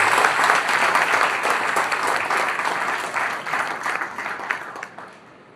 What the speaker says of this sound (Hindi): लोग जोरदार ताली बजाएं।